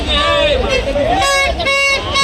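A large festival crowd gathers at a Chhabina procession in Mahad, a dense murmur of many voices with one nearby voice rising and falling clearly above the hubbub.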